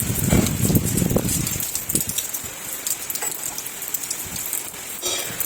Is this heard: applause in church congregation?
no